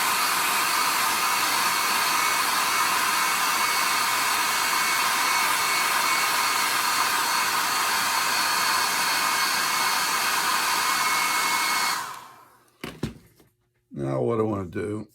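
A hair dryer blows loud and steady at close range for about twelve seconds while drying light watercolor paint, then cuts off, followed by a few brief knocks and handling sounds.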